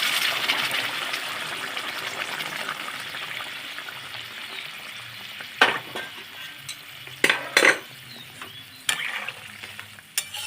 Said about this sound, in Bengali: এবার আমি দিয়ে দেবো এর মধ্যে গরম জল যেটা আমি আগে থেকে করে রেখেছিলাম